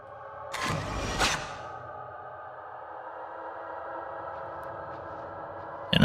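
A ghostly distortion effect from the Fatal Frame horror video game: two sharp whooshing bursts early on, then a steady eerie droning hum that lingers alone to the end.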